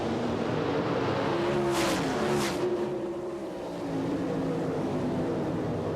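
Several sprint car engines fire and roar together at the start of a World of Outlaws race at Bristol, a dense loud drone with brief surges, no talk over it.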